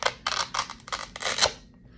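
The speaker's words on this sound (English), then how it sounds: "That is the sound of Velcro pulling apart." Velcro strips being pulled apart in a series of quick, bright ripping bursts, close and distinct, with no talk.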